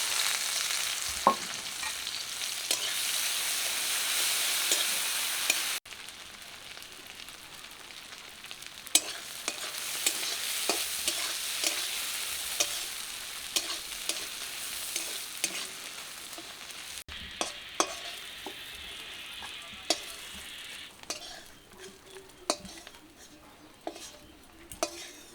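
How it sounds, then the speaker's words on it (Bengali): Dried fish frying in hot oil in a wok for a rainy-day village meal, with a loud continuous sizzle that drops and resumes, broken by sharp clinks and scrapes of a utensil against the pan. "তেল গরম হয়ে গেছে, যে শুটকি মাছ দিয়ে দিব।"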